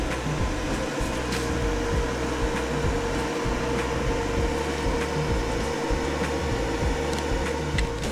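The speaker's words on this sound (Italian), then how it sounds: "il nostro Lux Power adesso, come potete sentire, ha fatto partire le ventole" Cooling fans of a Lux Power SNA6000 solar inverter run steadily, a close continuous whir and hum with a faint rhythmic pulsing and no talk.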